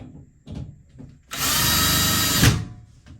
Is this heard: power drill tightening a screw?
yes